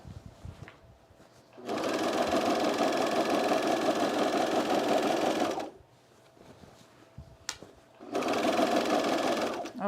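Overlock sewing machine stitching fabric for cargo pants in two bursts, a fast, close mechanical whirring clatter lasting several seconds each, with quiet handling sounds between them.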